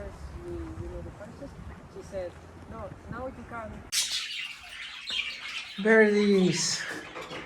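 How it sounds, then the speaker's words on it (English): A large flock of birds chirps and squawks nearby in shrill bursts that grow louder toward the end, while a person talks over the calls. "Birdies! Nice to see you again. Wow, you are so many."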